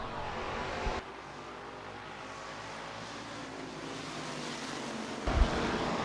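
USRA Hobby Stock race cars run a heat race at Rapid Speedway, engines droning faintly in the distance under a broad wind-like rush, with a couple of brief louder thumps at the start and end.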